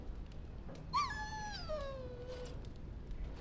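A dog in the video game Dragon Age: Origins lets out a single drawn-out whimpering whine that slides downward and fades, close and alone over quiet ambience.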